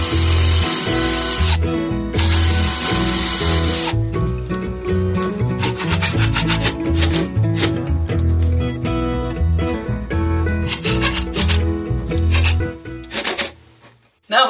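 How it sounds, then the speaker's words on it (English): A power drill with a bit run in reverse bores a countersink hole in wood for a push block, grinding and rubbing in bursts, close and loud, with short pauses between passes and falling quiet at the end. "I'm going to use a drill bit that's the size of the screw head and run it in reverse"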